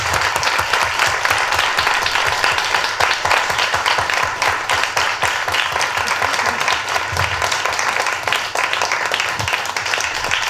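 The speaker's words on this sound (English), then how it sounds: "Should we just give Lucy a big applause?" Dense, sustained audience applause following a lecture on the Power Threat Meaning Framework, many hands clapping steadily and loudly for the full stretch with no pause or talk over it.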